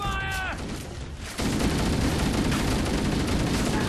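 Assault rifle gunfire in Halo: Combat Evolved, a loud continuous stream of rapid automatic shots that kicks in after a brief electronic tone and a quieter moment.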